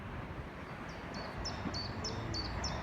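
A seagull on the North Sea coast gives a run of about six short, high, evenly spaced calls, faint and distant over the steady roar of strong waves.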